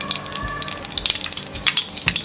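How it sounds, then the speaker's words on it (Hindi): Cumin and coriander seeds crackle and sizzle in hot oil, a dense run of sharp pops and spits over a steady frying hiss, close and fairly loud with no talk. "तेल गरम हो गया। अब हम इसमें डालेंगे ये ½ टीस्पून जीरा, ½ टीस्पून धनिया"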